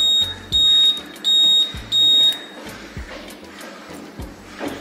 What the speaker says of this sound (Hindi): अगर मैं इंडिकेटर ऑन कर रहा हूँ तो फिर भी बीप की आवाज़ आएगी